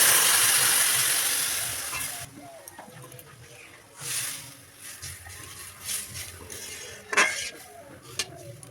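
Hot milk poured into fried vermicelli for semai payesh: an initial rush of hissing steam and sizzle fades, followed by scattered stirring clinks and scrapes of a utensil against the pan.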